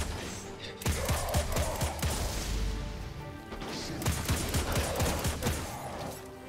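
Gunfire from a weapon in the video game Destiny 2: two loud, rapid volleys of sharp shots, each lasting a couple of seconds, with a short break between them and no voices.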